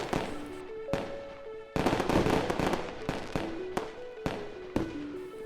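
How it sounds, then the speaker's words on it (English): New Year's fireworks burst over the Arctica Hotel in Murmansk, sharp bangs and crackles popping in quick irregular succession over a light musical backing. "amazing fireworks."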